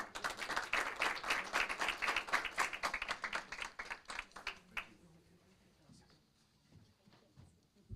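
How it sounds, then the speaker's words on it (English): Applause fills a city council chamber, a dense burst of clapping that holds for several seconds and then fades out, leaving quiet room tone. "Another big round of applause, please, for Luz Gallegos and her team."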